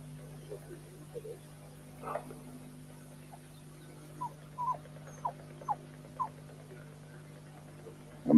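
A black Patterdale terrier barks from underground at a fox during a fox hunt, giving muffled, far-off yaps in short irregular bursts over a steady low hum.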